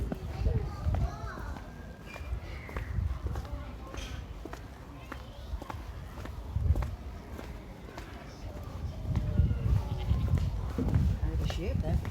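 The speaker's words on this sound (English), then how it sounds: "Goat down at the bottom there." A goat bleats on a countryside farm at Cannon Hall, its calls recurring through the clip with footsteps, while several people chat close by throughout.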